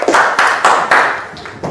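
A classroom gives a brief round of hand clapping for a student named Nurjada: several loud, close claps in an uneven run lasting under two seconds.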